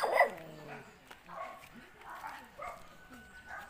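A dog barks a few times outdoors on a dry rural vegetable farm, sharp yelps near the start then fainter barks and whimpers, with movement noise and some voice in the background.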